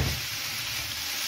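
Potatoes and monkfish sauté in a hot pan with a bright, steady sizzle that holds through the short moment, with no voices.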